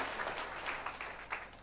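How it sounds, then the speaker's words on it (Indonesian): Church congregation applauding together, a steady wash of clapping with no voices, moderately loud and sustained across the whole short stretch. "Tepuk tangan yang keras buat Tuhan"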